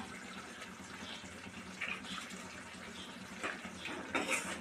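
Water runs from a tap while ground eggplant is rinsed for a Tamil eggplant dish, a steady close splashing stream with a few louder gushes and spatters and no talking.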